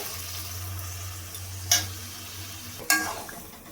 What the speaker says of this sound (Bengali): চিংড়ি মাছটা দিয়ে আবার ভালোভাবে একটু কষিয়ে নেব